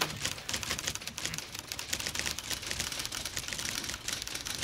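Fast, dense clattering of typewriter keys continues for a few seconds, close and busy, with no voice.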